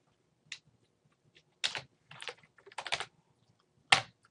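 A computer keyboard typing SQL code, short bursts of crisp close key clicks separated by pauses in a quiet room, no speech.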